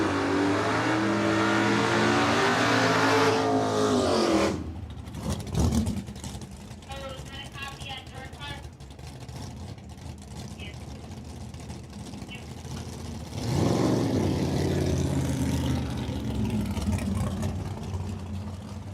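A silver 1969 Chevrolet Camaro drag racing at a dragway during an Independence Day event, its engine revving loud and close, then dropping away and surging again, with an announcer talking over it.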